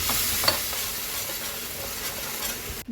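A masala thickened with cashew paste sizzles in a kadai for a mushroom masala, with steady scraping and stirring under a continuous frying hiss and no talk.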